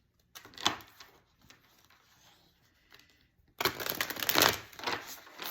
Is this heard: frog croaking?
no